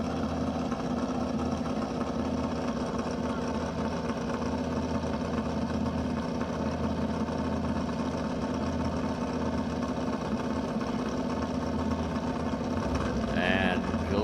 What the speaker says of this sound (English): That engine sounds a little more throaty than what I've heard in the past.